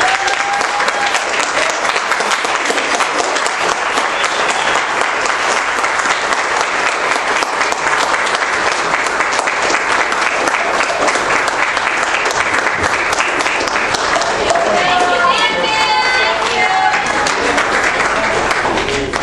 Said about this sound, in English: everyone should stand up and give this man a round of applause